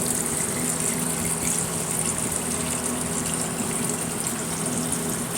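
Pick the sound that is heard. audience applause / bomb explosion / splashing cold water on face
splashing cold water on face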